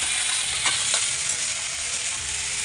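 Potatoes fry in mustard oil, giving a steady bright crackling sizzle close by, broken by a couple of light stirring clicks near the start, with no talking.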